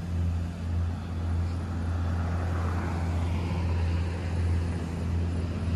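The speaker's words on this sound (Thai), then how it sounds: "นี่มาดูพี่ใหญ่ของเรานี่เสียงกระหึ่มเลยนะครับ" A heavy truck at a truck show contest in Mae Sot rumbles loudly, its engine giving a deep steady drone that swells slightly toward the end, with no voices over it.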